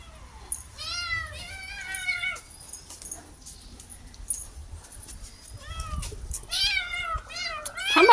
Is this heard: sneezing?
no